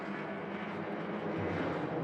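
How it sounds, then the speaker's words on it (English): Touring race car from a 300 km championship race, its engine a steady broadband roar that swells slightly as it comes by, moderately distant with no talk over it. "I just heard another car come in"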